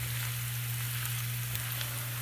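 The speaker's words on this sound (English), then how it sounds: "let these fry for like 5 minutes" Steak fries sizzling in a pan, a steady, close, even crackle with a constant low hum beneath and no voices.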